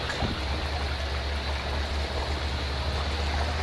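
Land Rover Discovery in SpinTires wading through water: a continuous broadband rush of splashing and churning water over a low steady engine drone, even and unbroken throughout.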